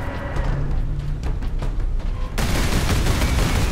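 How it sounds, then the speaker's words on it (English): Bolter turrets fire in the Warhammer 40,000 Space Marine video game, a dense loud rattle of rapid gunfire that grows even heavier and more continuous partway through, with no speech over it. "It's freaking bolter turrets"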